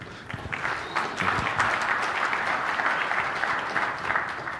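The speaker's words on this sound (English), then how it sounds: "I thought that might get some applause." Audience applause at a Microsoft Management Summit 2012 conference session on App-V 5.0 swells quickly and holds as a dense, continuous wash of many hands clapping.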